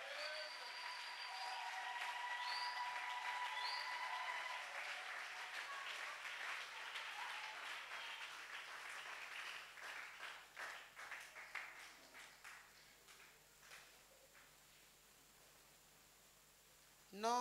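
A church congregation applauds to acclaim the Lord during a teaching seminar, a dense wash of clapping that swells early and then thins into scattered, uneven claps before fading out, heard at moderate distance.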